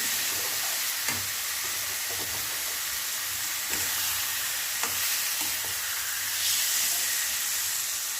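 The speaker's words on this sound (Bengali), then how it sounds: "আর একটু কষিয়ে নিই।" Jackfruit kofta curry masala sautéing in a pan, a continuous soft sizzle and hiss with occasional light scrapes and taps of a spatula, close up and steady.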